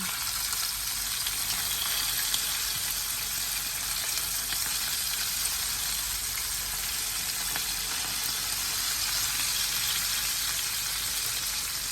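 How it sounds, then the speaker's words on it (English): Steady, loud sizzling and crackling of cod fish frying in hot oil, continuous throughout with no talking. "I'm actually frying these instead of pan searing them."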